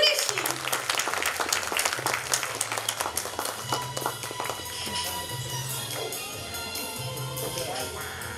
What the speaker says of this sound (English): Please clap for Noordi.